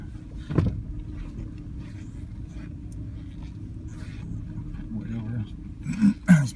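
A burgundy car close by gives off a low, steady engine rumble throughout, with a slightly louder swell near the end and a voice speaking over it.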